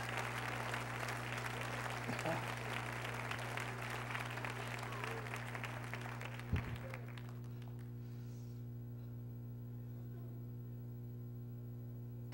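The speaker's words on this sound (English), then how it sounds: "Clap your hands and shout unto God." A church congregation claps hands together during a New Year's Eve service, a dense round of clapping over a steady electrical hum that stops abruptly partway through, leaving only the hum and faint room noise.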